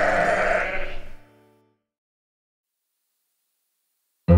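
One loud, close sheep bleat wavers for about a second in a children's nursery song and fades into silence, followed by a sudden loud burst at the very end.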